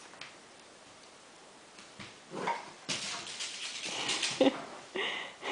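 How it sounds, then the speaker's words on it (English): A puppy whimpers softly indoors, faint whines and small yelps among light rustling and ticking sounds, with occasional louder bursts. "Poor puppy gets no peace."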